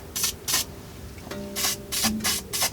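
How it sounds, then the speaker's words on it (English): Several short hissing bursts of aerosol penetrating oil sprayed onto strut bolts of a 2014 Ford Explorer, two early, then four more in a quick rhythm, close and fairly loud. "take your penetrating oil and just spray down the friction surfaces"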